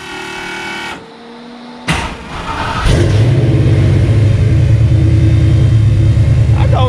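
A car engine with an old muffler cranks, catches and settles into a loud, rough idle with a rumbling low growl, briefly revving as it starts.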